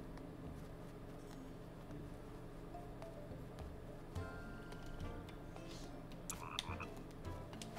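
Frog croaking in the video game The Plucky Squire, a steady low croaking that runs through the whole stretch under game music and effects, with brighter chimes and clicks near the end.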